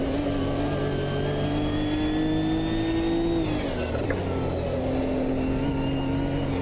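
In Automobilista 2, a Nissan Nismo Cup race car engine drones steadily at Brands Hatch, its pitch climbing, dropping sharply around a gear change or braking point, then climbing again, all close and without talk.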